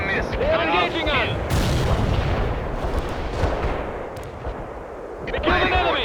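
Gunfire and artillery explosions rage in World in Conflict, a military strategy game set during an insurgent battle, with loud continuous booms and volleys layered over radio-style voices shouting orders.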